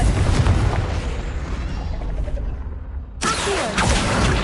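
A Confringo blasting spell explodes in Hogwarts Legacy with a loud rumbling boom that fades out, followed by a sharp second burst and crackling debris, all without any voices.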